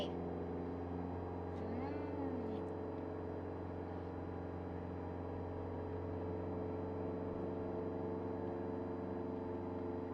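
A car engine driving uphill in second gear on a mountain road to Phu Thap Boek, a steady, droning hum with a constant pitch that continues evenly throughout, with a brief faint higher sound early on.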